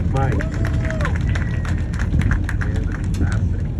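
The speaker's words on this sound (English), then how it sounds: "how about a little round of applause for Captain Mike?" Passengers aboard a sightseeing boat off Maine applaud their captain, a short burst of close, sharp hand claps with scattered voices mixed in over engine and wind noise.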